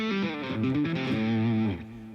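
Electric guitar driven through a distortion pedal for rhythm tone, a sustained saturated chord ringing steadily and loudly on its own for about two seconds before dropping off and fading at the end.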